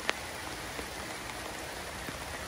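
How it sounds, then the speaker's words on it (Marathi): Monsoon rain falls steadily beside an old, shallow farm well, a dense even hiss with a few distinct drops tapping near, heard alone without voices. "पाऊस आता कमी झालो असा, तरी पण पडता."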